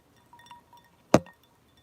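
Two glasses clink once in a sharp, close toast at home, after a few faint taps, with quiet around it.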